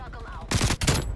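MP5 submachine gun fire in Call of Duty: Cold War, two quick loud bursts of rapid shots after a short stretch of a voice talking.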